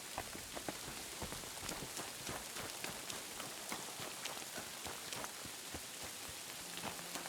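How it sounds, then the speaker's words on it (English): Rain in Kingdom Come Deliverance II, a steady hiss of drops on surfaces with scattered sharper patters and faint hoof-like clops, moderately quiet and continuous. "Fucking rain."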